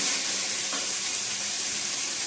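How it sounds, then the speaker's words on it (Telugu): Coriander, mint, green chillies and tomato fry in hot oil for a chicken vermicelli biryani, giving a steady, close, even sizzle and hiss with a light stir partway through and no voices. "కొత్తిమీర, మెంతమాకు, పచ్చిమిర్చి, టమోటా, బిర్యానీ మొత్తానికి ఇవి బాగా వేగనివ్వాలి."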